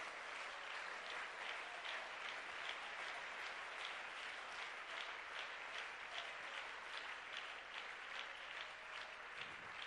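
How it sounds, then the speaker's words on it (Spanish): A church congregation claps in a faint, even rhythm, the beats repeating steadily for about ten seconds with no talking. "Dale un aplauso al Señor en esta hora."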